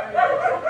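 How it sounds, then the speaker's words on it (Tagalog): A noisy dog makes a brief, close yip-like bark or whine, short and fairly loud, heard alone. "Pasensya na sa maingay na aso"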